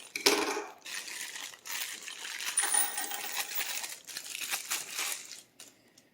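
Small blue plastic baggie of washers and screws being opened and handled, soft crinkling and light metallic clinks and jingles at close range, fairly quiet.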